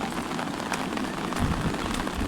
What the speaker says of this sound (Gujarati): એક ધારો વરસાદ ચાલુ થયો